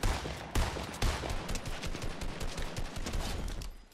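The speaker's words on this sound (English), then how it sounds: "Who's shooting at me?" Rapid, loud bursts of gunfire from the Fortnite Battle Royale video game, a dense rattling stream of shots close by with no talking.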